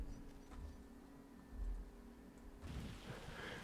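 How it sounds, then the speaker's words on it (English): Rain falling hard in the Farming Simulator 25 video game, a steady broadband wash that swells louder in the last second, with low rumbles underneath and no talk. "we are here in April now, and it's raining. Pretty dang hard."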